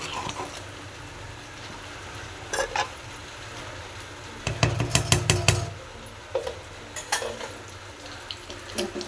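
Hot spice tempering poured into cooked khichuri, giving bursts of sizzling and splashing around the middle, with quieter kitchen clatter and a low steady background hum.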